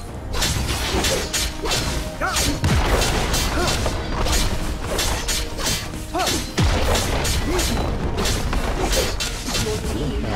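Turret being destroyed in League of Legends, dense crashing impacts, whooshes and mechanical clatter in a loud continuous battle din with repeated heavy hits.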